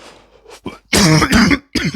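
A person coughs and clears their throat up close and loudly, with a few short rasping bursts followed by a harsher, stronger clearing of the throat.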